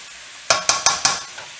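Zucchini, yellow squash and sausage cook in a pan under a faint steady sizzle, broken by four quick, evenly spaced scrapes of a utensil stirring, close and fairly loud.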